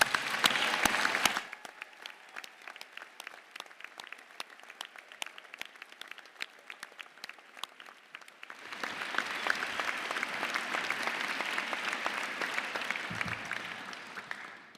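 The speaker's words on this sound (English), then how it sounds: "If you could all give them a round of applause." Graduation ceremony audience applauding in a large hall, a brief burst, then lighter scattered clapping, swelling into sustained broad applause in the latter half.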